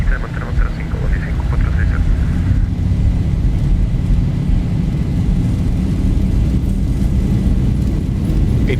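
Boeing 737 jet engines spooling at takeoff thrust in the X-Plane flight simulator, a steady loud roar with a whine that fades early on, a voice talking faintly under it.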